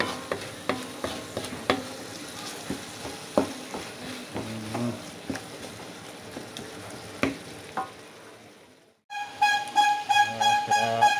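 Shrimp paste (terasi) sizzles in a pan while a utensil scrapes and taps against it in irregular strokes. The frying goes quiet for a moment, then returns louder with a brighter hiss.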